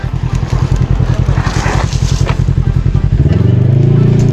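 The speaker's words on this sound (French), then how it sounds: "Il y a un joli quad là." A quad bike engine passes on a countryside hiking trail, its steady throbbing growl running loud and close, rising to a higher sustained whine near the end.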